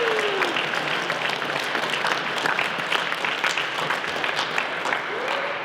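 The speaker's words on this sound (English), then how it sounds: "Let's give a round of applause." A crowd applauds a graduating class at a senior speeches event, continuous dense clapping with scattered individual claps standing out and faint cheers or voices underneath.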